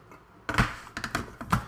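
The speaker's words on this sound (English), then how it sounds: "Don't know why this keyboard ain't working." Several quick, close clicks of typing on a computer keyboard come in an uneven burst, with no voices.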